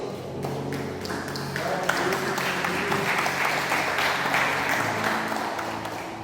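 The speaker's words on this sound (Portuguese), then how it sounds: "Podem se assentar, aplaudindo ao Senhor." A church congregation applauds during a service, a sustained, moderately loud wash of clapping from many people filling the hall, with faint background tones beneath it.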